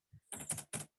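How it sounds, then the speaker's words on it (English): Typing on a computer keyboard during an online webinar, a soft click followed by a few quick bursts of close keystrokes over about a second, with no speech. "somebody is typing"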